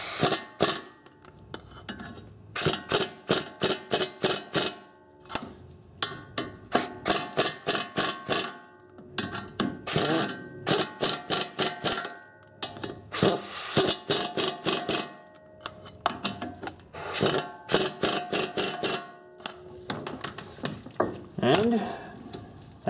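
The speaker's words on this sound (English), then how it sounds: "You want to tighten the fasteners in a crisscross pattern to prevent the bearing from binding" On a 1990–1997 Honda Accord brake job, a ratchet tightens the hub bearing fasteners in bursts of rapid, close clicking separated by short pauses, with brief stretches of someone talking in between.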